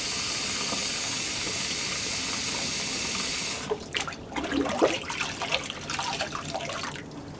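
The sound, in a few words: outdoor sink faucet running water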